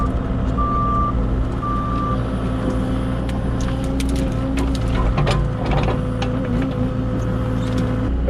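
An excavator doing tree work keeps up a loud, steady engine drone with clanking, ratcheting track and hydraulic noises throughout, while a high reversing beep sounds twice early on.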